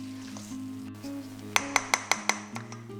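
Vegan banana bread batter with walnuts being mixed in a bowl: a low hum sits underneath as a spoon clinks against the bowl about five times in a steady rhythm near the end.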